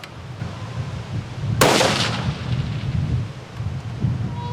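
.338 Lapua Magnum rifle firing once, a single sharp, loud crack followed by a deep booming rumble that rolls on for a couple of seconds over low outdoor background noise.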